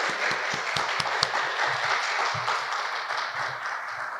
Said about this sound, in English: Let's give these panelists a round of applause.